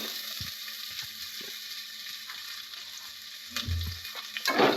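Curry leaves, green chillies and onions fry in a pan with a soft, continuous sizzle and a few clinks and stirring knocks that grow louder near the end, with no talk.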